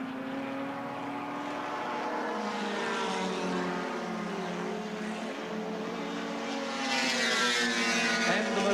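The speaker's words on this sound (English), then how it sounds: "Car 17, Dick Johnson, the man from Prudential, sponsored by the Queensland Ford dealers." A Ford touring car racing at Surfers Paradise in a 1981 Australian touring car event, its engine droning steadily with shifting pitch, growing louder and nearer over the last seconds.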